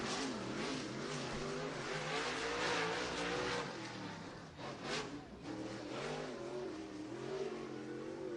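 A Pro Stock race car makes a single-car qualifying run from the green flag. A loud, sustained engine roar rises and falls in pitch, with a brief throttle dip midway and no talk.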